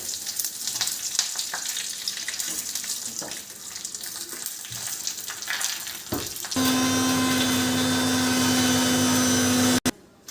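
Mustard seeds crackling in hot oil for rasam, a dense close sizzle with scattered pops, joined midway by a steady mechanical hum that runs until an abrupt stop.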